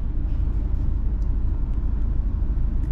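Steady low rumble of cars idling and moving around a roadside petrol station on a Turkish coastal sightseeing route, a constant broadband drone with no voices.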